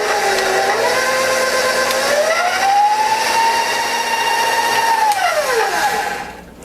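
An electric stand mixer beats hot cocoa cookie dough with a loud, steady motor whine that rises in pitch, holds, then winds down and stops near the end.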